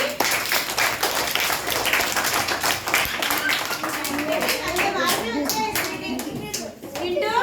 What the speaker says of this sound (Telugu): అందరూ స్వీటీని చూసి చూడండి, చప్పట్లు కొట్టండి స్వీటీకి.